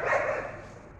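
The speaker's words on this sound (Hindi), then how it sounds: "ये जो आवारा कुत्ते हैं इस वक्त दरबार रोड पर" Stray dogs on Darbar Road bark while chasing a passerby, a sustained, loud harmonic yelp that fades over about a second, close by and outdoors.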